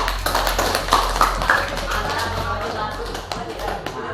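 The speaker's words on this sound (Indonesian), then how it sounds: "Tepuk tangan untuk semuanya." A group applauds after a class performance with a short burst of clapping that fades, while voices talk over it.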